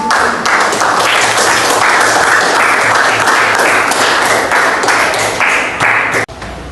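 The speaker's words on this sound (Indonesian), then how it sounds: "Berikan aplaus." A classroom of students applauds after a group presentation, steady loud clapping from many hands close by, ending abruptly.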